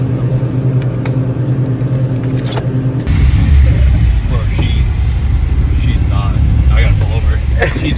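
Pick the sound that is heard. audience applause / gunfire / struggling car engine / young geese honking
struggling car engine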